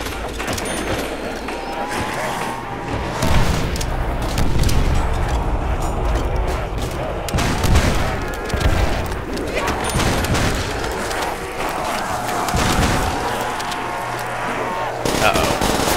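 Rapid PPSh submachine gun bursts in World at War Zombies, dense repeated fire running throughout amid game noise and a talking voice.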